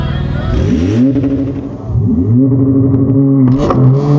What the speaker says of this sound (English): we're running the Porsche Turbo again, and this time, hopefully we don't sit and spin